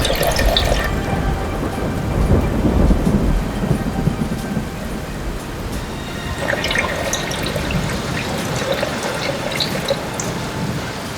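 Heavy rain pours down in a dense, continuous roar, with low rumbling thunder swelling underneath; no voices.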